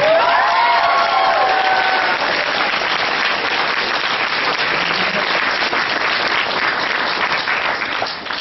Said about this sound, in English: Come on, round of applause for the cosplay.